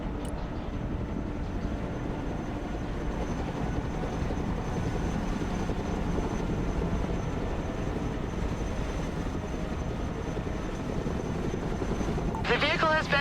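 A Chinook heavy transport helicopter in the strategy game Broken Arrow flies at full power with a steady, dense rotor drone that holds throughout, ending in a short burst of higher-pitched mechanical noise.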